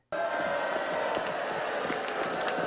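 A large crowd boos a band being introduced in the Disney Channel movie Pixel Perfect, a loud, steady wall of jeering voices that starts abruptly and holds for the whole stretch.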